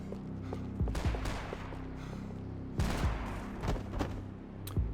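Gunfire in the video game Max Payne 3: a few sharp bursts of shots spaced a second or two apart over a low, steady background rumble.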